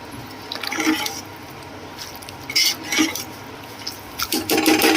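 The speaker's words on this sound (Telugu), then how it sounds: "ఈ విధంగా రైస్ కలబెట్టుకోవాలి." Rice being stirred into a pot of chicken dum biryani, with soft wet squelches and scraping clatters coming in short, uneven bursts close by, separated by quieter gaps.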